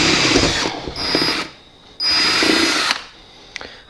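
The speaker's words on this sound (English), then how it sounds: "drill bit to drill these holes" Power drill boring holes during installation of a Malpassi adjustable fuel pressure regulator on a Classic Mini, two loud whining bursts of about a second each, close up and with no talk.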